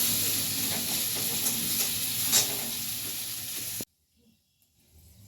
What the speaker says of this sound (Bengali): এবারে কড়াইতে সর্ষের তেল দিয়ে তেলটা গরম হওয়ার পর এবারে একটা শুকনো লঙ্কা আর একটু জিরে, সাদা জিরে ফোড়ন দিয়ে দিল